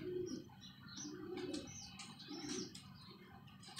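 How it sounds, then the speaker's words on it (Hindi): Soft, low pigeon coos repeat several times in a gentle rhythm, with faint chirps and rustling around them, fairly quiet and nearby. "शानी मज़ा आया यार कबूतर दिखा के।"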